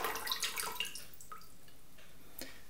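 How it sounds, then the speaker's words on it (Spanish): Water pours into a betta breeding aquarium tank, a soft trickle with scattered drips, fairly quiet and close. "vamos a rellenar la pecera con agua"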